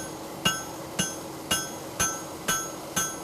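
A farrier's hammer strikes a horseshoe on the anvil, shaping the heel caulk, six evenly spaced ringing metallic blows about half a second apart, close and clear, without talk.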